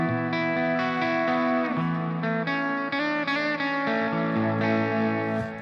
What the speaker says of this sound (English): So I have a little bit of cloud reverb and some delay.